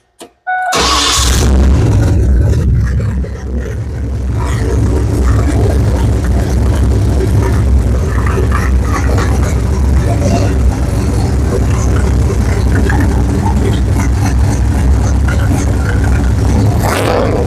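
A budget Mustang with a GT45 turbo running on a Microsquirt ECU cranks and fires up loudly after a brief pause, then settles into a steady, rumbling idle that continues close by, with a voice speaking over it at times.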